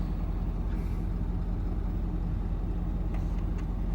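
A dump truck engine runs at a steady, close, low rumble while the bed is lifted, with a few faint higher clicks near the end.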